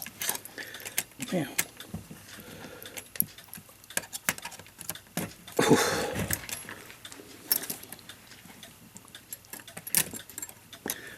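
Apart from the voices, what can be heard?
loosening the click spring of a Waterbury clock strike movement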